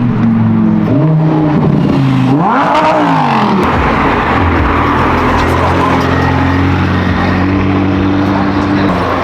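Lamborghini Aventador with a naturally aspirated V12 revving loudly on a street, a sharp rising snarl that falls away into a sustained roaring engine drone amid traffic.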